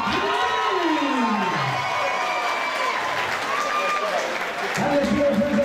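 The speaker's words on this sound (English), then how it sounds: "your winner, by the rear naked choke" A crowd at a combat fight event in Bradford applauds and cheers after a rear naked choke win, loud and sustained, while an announcer's amplified voice talks over the noise.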